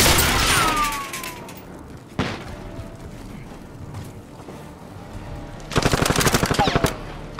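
Machine-gun bursts in the Warzone battle royale game, a rapid rattling volley at the start, a single sharp shot, then a longer loud burst near the end, with quiet game ambience between.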